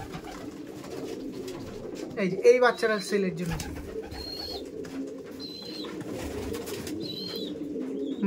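Green Madras pigeons coo softly in a few short calls at mid distance, with a brief burst of fluttering or scuffling, while people talk nearby.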